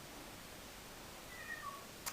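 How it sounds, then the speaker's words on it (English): Nelson the cat gives a single faint, thin meow in a quiet room, heard alone over a soft background hiss. "that's Nelson meowing like an idiot"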